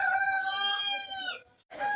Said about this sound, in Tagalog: Ang inaingay ng mga manok